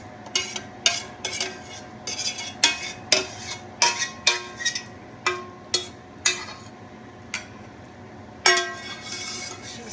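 Shepherd's pie filling spooned into a round baking dish, giving a series of close, sharp clinks and scrapes of a spoon against the dish, spaced irregularly throughout with soft wet thuds between them and no talking.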